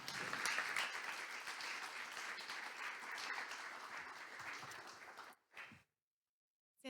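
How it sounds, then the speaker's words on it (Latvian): Audience applause at a Latvian youth politics conference greets a club president as she comes to the podium, a steady, fairly loud wash of many hands clapping for about five seconds, then cutting off abruptly into near silence. "Sagaidām ar aplausiem."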